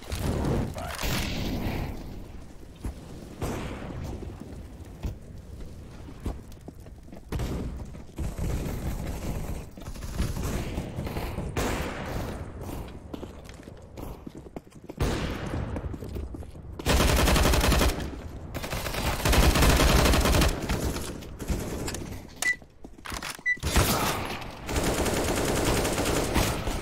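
Heavy gunfire in Counter-Strike: Global Offensive, with bursts of automatic rifle fire and single shots over a full, continuous battle din, loudest in the second half with a sustained volley.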